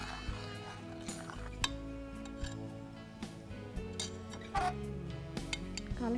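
Rose water is stirred into a mixture in a metal vessel, giving a string of sharp clinks and light scrapes at an uneven pace, some louder than others, over a faint steady background and with no one speaking.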